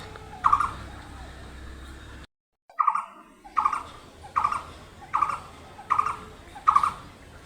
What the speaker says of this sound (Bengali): বসে থাকতে থাকতে গাছের ডালে 2টো পাখি ডাকতেছে